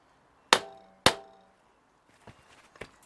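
Two sharp metallic taps on a seized bolt of a Mikuni BST36SS carburettor, close and distinct about half a second apart, followed by softer scraping and small knocks of tools.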